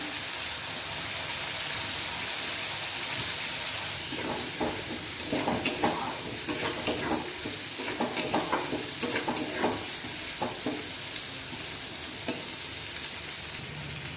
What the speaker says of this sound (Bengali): মশলাটার মধ্যে আলু দিয়ে দিচ্ছি